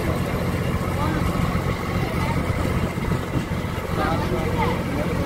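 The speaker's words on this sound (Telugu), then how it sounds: "బా చూసారా పడవ" A river boat's motor hums steadily on a ride near Srisailam, a continuous broad rumble with water and wind noise around it, close and even throughout.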